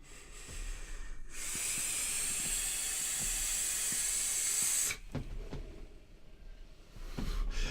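A vaper draws on a Reload RDA with the airflow fully open and the wattage turned up. A loud, airy, steady hiss lasts about four seconds, close to the microphone, with quieter breathing and handling noises before and after it.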